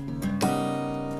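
Acoustic guitar played live at the McPherson Opera House, sounding brief ringing strummed chords with sustained tones, close and fairly loud, without talk.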